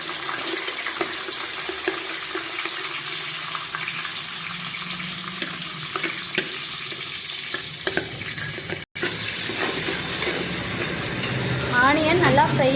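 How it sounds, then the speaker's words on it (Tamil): Onions frying in hot oil with masala spices for a Sunday chicken biryani, a steady close sizzle with stirring scrapes throughout, broken by a brief gap and growing slightly louder near the end. "ஆனதுக்கப்புறம் இப்போது ஆனியன் ஆட் பண்ணிக்கலாம்."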